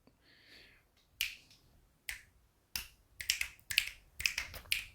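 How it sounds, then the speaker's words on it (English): Sharp finger snaps, loud and close, come singly at first and then in a quicker run of about eight, with a faint hum in the quiet gaps. "snap my fingers."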